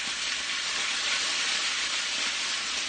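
Potatoes sizzle steadily in a hot pan, a dense continuous frying hiss that holds loud and even from start to finish.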